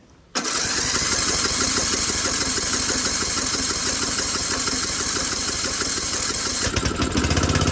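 A custom John Deere racing mower engine cranks and catches abruptly, then settles into a loud, steady close-up idle with a slight change in tone near the end.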